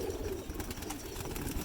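Pigeons coo softly in a low, steady murmur, with a bit of rustling and movement from the birds.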